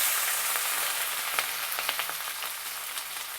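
Chopped capsicum fries in hot oil with cumin seeds, a loud, continuous close-up sizzle with small crackling pops scattered through and no voices.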